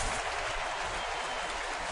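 Florida Gator fans in a packed football stadium at a Florida–Georgia game applaud from the stands, a steady, distant wash of crowd clapping and noise with no individual claps standing out.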